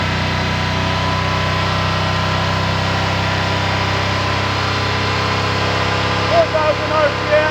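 A hydrogen-powered V8 engine runs steadily at 4000 RPM on a test, a loud, constant drone with layered tonal hum, and a voice comes in briefly near the end.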